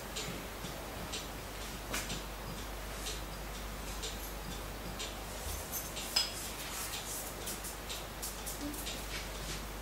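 A spoon stirs rice flour and corn flour together in a bowl, giving a steady run of light, close ticking clinks with one sharper tap near the middle.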